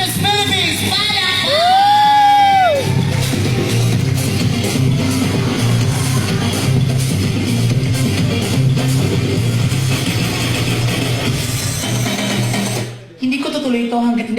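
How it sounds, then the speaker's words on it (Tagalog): Pageant audience at the Miss Universe 2018 crowning event cheers and whoops loudly, a sustained crowd roar with a voice over a microphone and music, ending in a brief drop near the end. "At mas masaya kung malakas ang hiyawan!"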